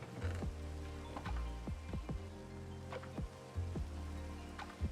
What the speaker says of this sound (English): Come on, rain, go away.